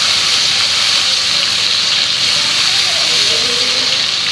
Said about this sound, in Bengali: এবার ভাজবো।